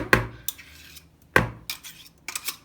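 Dishes and utensils clink and clatter close by in two short bursts as a blender is cleaned, with lighter knocks and rattles in between, no talking.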